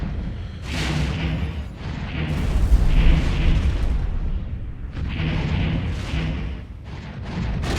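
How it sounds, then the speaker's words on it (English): Missiles strike and explode in the space game X4: Star Wars mod, producing several broad, rumbling blasts in loose succession, loud and close with no talking. "we're going to fire another missile, and let's see how much damage it does"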